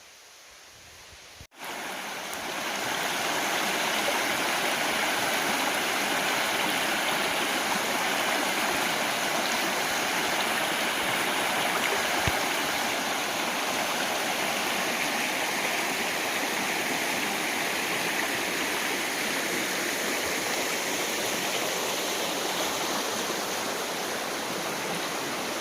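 Waterfall on Steels Creek, North Carolina, roaring as a steady, loud, broadband wash of falling water that holds unbroken for the whole stretch after a brief quiet start, with no voices.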